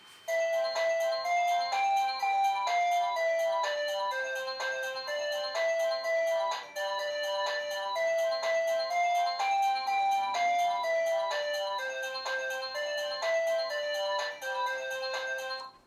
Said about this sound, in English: You can change the ringtones as well on the chime.